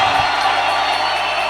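A church congregation at a Sunday service cheering and acclaiming Jesus Christ, a loud, dense burst of crowd shouting and whooping that fills the whole moment.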